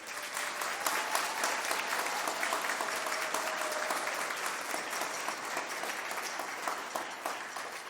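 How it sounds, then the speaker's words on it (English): Audience applause fills a high school spring band concert hall, a dense, steady roar of many hands clapping that holds evenly for the whole stretch without pause. "Can we please give them a big round of applause?"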